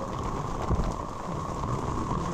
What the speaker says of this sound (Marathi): पाऊस अजून जोरात पडत होता